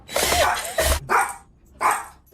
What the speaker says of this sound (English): she won't stop barking